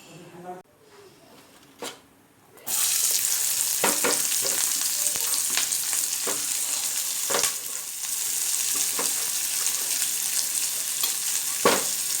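Boiled red lentils (masoor dal) fried with onion in a home kitchen, a loud continuous sizzle that kicks in abruptly after a quiet start, broken by recurring scraping clicks from stirring.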